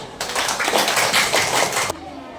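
A classroom group claps hands together, a burst of quick overlapping applause lasting under two seconds before stopping abruptly.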